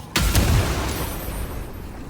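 A loud blast opens the sequence, then rumbling fiery explosions from a combat scene in the video game Baldur's Gate 3 fade into a crackling, hissing tail.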